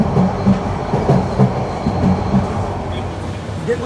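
Cox's Bazar Express passenger train rolling between Akhaura and Tongi junctions in Bangladesh, with a steady loud rumble and a rhythmic clickety-clack of wheels over rail joints, heard from inside the carriage.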